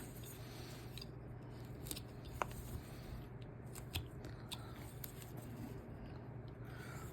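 Small knife carving into a wooden figure, giving sparse, quiet snaps and scraping clicks at irregular intervals over a low, steady background hum in a still room.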